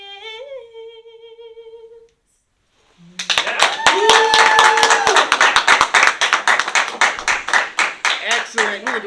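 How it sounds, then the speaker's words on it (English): Audience applause breaks out after a cappella singing, a dense run of loud claps that starts abruptly after a short pause and holds steady, with voices calling out over it. "We can do a better round of applause than that."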